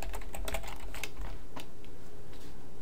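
A computer keyboard typing out the HTML5 doctype in a code editor, with rapid, close key clicks at a steady pace over a constant low background hum.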